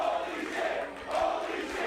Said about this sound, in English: you can hear the crowd saying exactly what they think of what they just saw